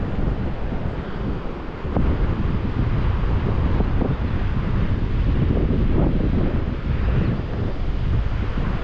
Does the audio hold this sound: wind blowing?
yes